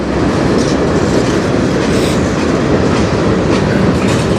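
CN freight train M384 rumbling past close by, a loud continuous roar of wheels on rail with rhythmic clickety-clack over the joints and no voices.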